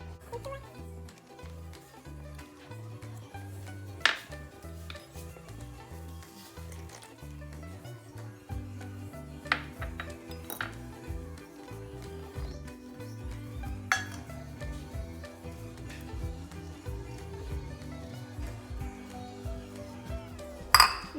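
Banana bread batter being mixed in a bowl, with scattered clinks and scrapes of a utensil against the bowl and a few sharper knocks, under intermittent talking.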